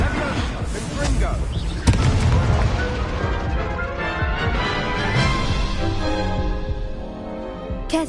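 An explosive Confringo spell blasts in a wizarding video game, one sharp burst near the two-second mark over busy game sound, with voices heard throughout.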